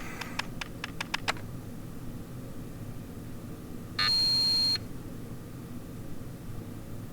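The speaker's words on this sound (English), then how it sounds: "You pecked away at the keyboard and called up the authorization screen again." Rapid keyboard clicks from a sound effect in the visual novel Ever17, a quick burst of six or so keystrokes, followed by a steady electronic beep lasting under a second.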